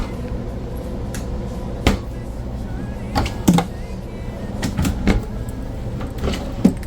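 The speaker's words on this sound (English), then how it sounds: "But let's check out the drawers." Kitchen drawers in a 2026 Flagstaff Micro Lite 25SRK fifth-wheel RV slide open and shut several times, giving sharp thuds and clacks over the background murmur of a busy RV show.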